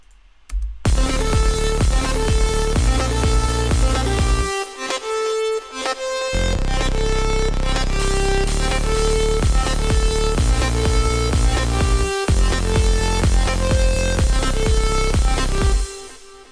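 Layered synth lead built in FL Studio 12 with delay and reverb, playing a full mix of sustained, bright melodic notes over heavy bass, with brief dropouts near 5 and 12 seconds and no voices.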